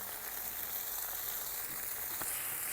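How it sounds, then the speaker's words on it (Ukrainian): Zasmazhka fry-up on salo for green borscht sizzles steadily in a pan while being stirred, a continuous close frying hiss with a faint scrape near the end. "Перемішуємо нашу засмажечку."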